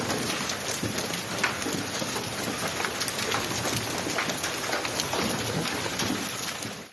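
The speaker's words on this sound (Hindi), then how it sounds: "दोपहर से शुरू होने वाली बारिश का सिलसिला शाम तक जोर पकड़ गया" Heavy monsoon rain pours over Karachi in a continuous loud roar of dense downpour with splashing drops, steady throughout with no voices.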